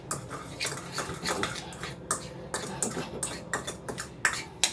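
A spoon stirs seasonings into raw chicken in a bowl, giving a run of soft scraping and clinking taps at an irregular, fairly quick rhythm, close and moderately quiet.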